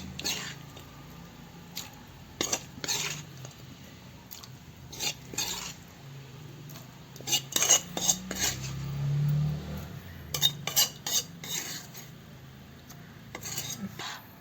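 A spoon scrapes and clatters against a pot while sautéed prawns with tomato and onion are scooped in for konju theeyal, a series of irregular metallic scrapes and knocks close by, with faint voice in the background.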